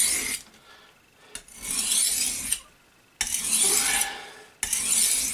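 A chisel-ground kitchen knife is sharpened on one side only. Four close bursts of dry rasping strokes are separated by short quiet gaps.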